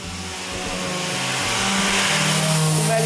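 A power sander works wood with coarse 80-grit sandpaper, giving a steady whirring drone that rises slightly in pitch and loudness over about three seconds, close by and with no talk.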